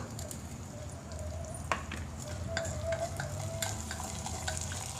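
Onions and tomato frying in a clay pot for a meal maker fry, a steady sizzle broken by scattered scraping and tapping stir strokes up close, with no speech.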